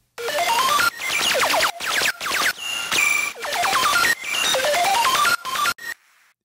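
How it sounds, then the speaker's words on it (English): Synth notes with a short decay envelope driving coarse pitch, giving each attack a quick downward pitch blip, in a dense electronic remake of a track; rapid bursts of plucky tones play alone, loud and close, ending abruptly. "it creates a quick pitch modulation at the very beginning of your sound, which almost adds a bit more attack"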